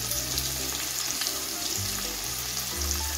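Chopped tomato with salt fries in a pan for a Bengali egg posto dish, producing a dense, even sizzle that runs steadily at close range with no pauses and no talking.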